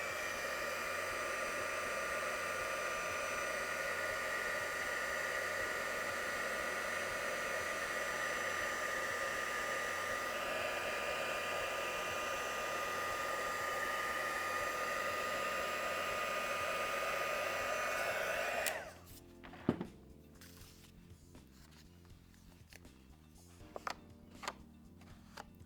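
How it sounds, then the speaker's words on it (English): Heat gun blowing hot air while melting embossing powder, a steady loud whooshing roar for about eighteen seconds before switching off to quiet handling clicks. "I'm actually still facing that heat gun away from where my loose embossing powder is"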